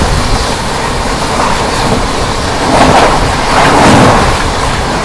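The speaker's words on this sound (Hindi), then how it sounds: "अभी जस्ट दोस्तों आपने पूर्वा एक्सप्रेस का क्रॉसिंग देखा" Train 12382, the New Delhi–Howrah Purva Express, rushes past at speed in a loud, steady rumble and roar that swells toward the end, close by and without speech.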